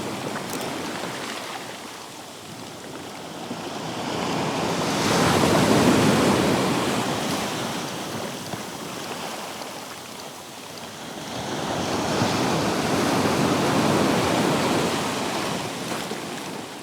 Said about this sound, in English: whenever the waves come crashing in against me, they create these beautiful long streaks among the ice